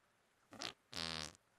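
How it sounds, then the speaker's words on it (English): Two fart sound effects from a video game, a short burst followed by a longer, louder, buzzy one, heard alone and close. "they should be able to hear these farts"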